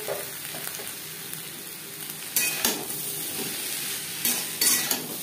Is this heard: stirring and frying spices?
yes